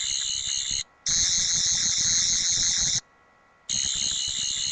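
A replica of the Eleventh Doctor's sonic screwdriver toy emits a loud, shrill electronic warble in long bursts, cutting off twice into brief silence before resuming, close and alone.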